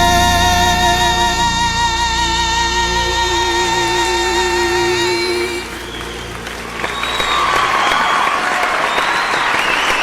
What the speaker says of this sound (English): another huge round of applause for that breathtaking performance